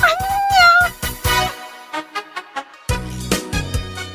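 Several cats meow in a domestic setting, a cluster of drawn-out wavering meows followed by shorter, separated calls and a final louder pair, close and clear with no talking.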